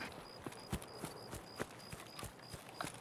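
Player footsteps in the video game Escape from Tarkov, a steady run of soft thudding steps at an even pace, with a repeating high electronic beep behind them.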